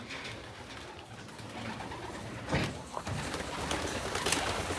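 Soft, throaty cooing of young pigeons in a racing-pigeon loft repeats close by against a steady noisy background, with a slightly louder burst partway through.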